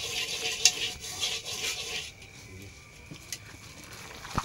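Duck meat stirred in a handi pot with mustard oil, with scraping and sizzling strokes that come loud at first and then soften, plus a few sharp clicks, with no talk.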